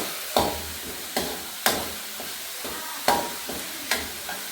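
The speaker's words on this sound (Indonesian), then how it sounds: "Ini habis ditumis kita masukkan ke dalam panci ini nanti ya guys" Sautéed spice paste for chicken soto sizzles in a pan while a spoon stirs it, with sharp scraping strokes roughly every second over a steady crackling fry, close up and with no voices.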